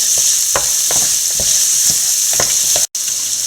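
Sliced onions for chilli chicken sauté in a hot pan with a steady bright sizzle, punctuated by repeated scraping strokes of a spatula, close and loud, with a brief cut near the end.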